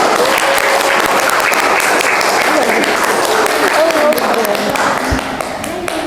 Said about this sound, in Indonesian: Silakan tepuk tangan buat Naura